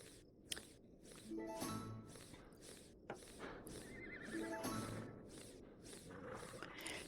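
A horse neighs twice in the farming video game Farm Together 2, with separate whinnies over a layer of clip-clopping hooves and a quiet background bed.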